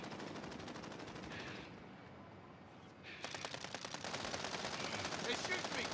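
Call of Duty shooter gunfire, a quiet steady rattle of rapid automatic shots with a brief lull in the middle before the firing resumes, faint throughout.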